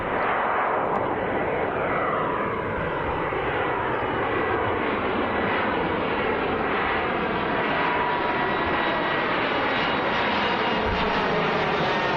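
Airliner taking off at Birmingham Airport with its landing gear retracting, the roar of its engines loud and constant, a broad rumbling wash that shifts slowly in pitch as it passes, heard outdoors with no other sounds standing out.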